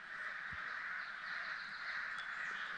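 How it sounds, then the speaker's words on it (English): Crows cawing near their rookery in Canada, a steady chorus of harsh calls blending into a dense band of bird noise, moderately loud and continuous with no talking. "Well, the crows are awake."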